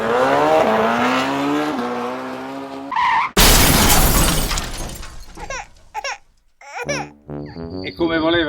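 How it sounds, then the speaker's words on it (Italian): Engines roar, then a loud crash with skidding and shattering bursts out, followed by scattered clattering debris and brief voices. "ha voluto strafare e le moto le ha distrutte"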